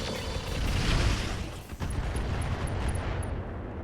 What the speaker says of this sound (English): I'm going to even fire a Rocket 20 here.